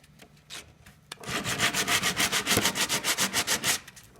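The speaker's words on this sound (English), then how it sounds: "Take a hard block. Again, it's just a coarse piece of sandpaper on a wooden block." Coarse sandpaper on a hard wooden block rubs back and forth across wood in a quick, even rhythm of about twenty rasping strokes, close and loud after a few tentative scrapes.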